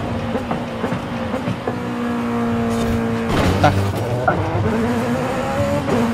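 Race cars in the game Forza Horizon 5, steady engine drone with rising and falling revs under intermittent talk from players.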